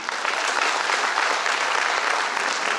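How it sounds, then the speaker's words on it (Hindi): Loud audience applause at a company launch event, a dense steady wash of clapping hands filling the whole stretch, with no talk over it. "एक बार जोरदार तालियां।"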